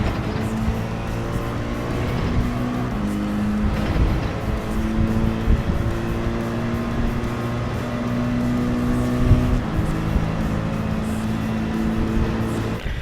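Mercedes AMG GR.3 race car at Spa in Gran Turismo 7, engine droning loudly with steady rising and falling tones as it pulls through third gear, a continuous near roar without pauses.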